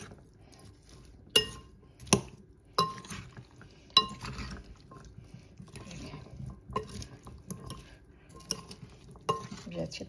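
A metal spoon mixes aloo chana chaat of potato and chickpeas in a bowl, giving a series of sharp, irregular clinks against the bowl over a soft, continuous stirring scrape.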